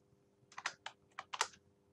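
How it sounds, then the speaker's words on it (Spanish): Numbers are tapped out on the numeric keypad of a computer keyboard, a close, crisp series of about six clicking keystrokes in two quick bursts over a quiet room. "podemos hacer uso, todo depende del teclado que tengan, del pad numérico del teclado"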